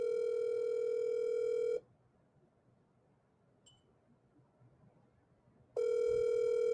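A telephone ringback tone sounds while a call waits to be answered: a loud, steady electronic tone that cuts off into about four seconds of near silence before sounding again.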